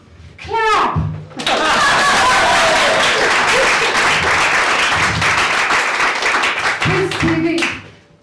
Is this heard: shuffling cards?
no